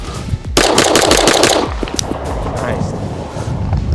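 Rapid string of pistol shots from an Atlas Titan 2011 handgun, fired in a fast close-range burst of roughly a dozen sharp reports, then trailing off into quieter range ambience.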